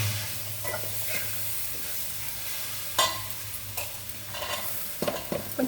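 Boiled chickpeas hiss and crackle as hot tempering is poured over them. A steady sizzle runs under scraping spoon strokes and a few sharper clinks of stirring in the pan.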